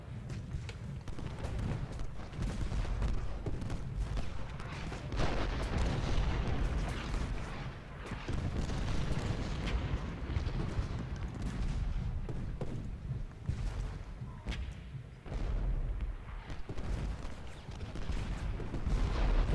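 Artillery fire in the video game Ultimate General: Gettysburg, a steady rumble of distant cannon booms and scattered musket-like pops rolling on continuously at moderate loudness.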